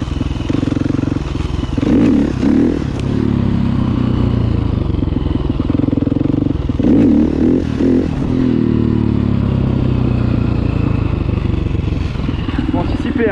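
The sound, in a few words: motorcycle riding a wheelie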